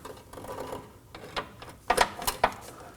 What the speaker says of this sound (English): Using a 13mm socket and an extension, we're going to go ahead and remove that bolt.